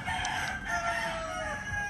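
A rooster crows near a home kitchen, its strained call carried over steady background noise, fairly loud and continuous for a couple of seconds with no talking.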